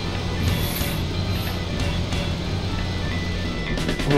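A car engine from the video game DayZ hums steadily under a hissy background, with faint tonal chirps near the start and a few clicks at the end.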